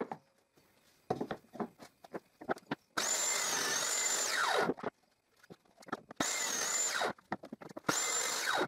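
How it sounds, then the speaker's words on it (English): A homemade table saw spline jig cutting joints in a wooden window frame: several separate whining cuts, each a loud sustained buzz that starts and stops, with tapping and handling noises between. "So I will use my homemade table saw spline gear."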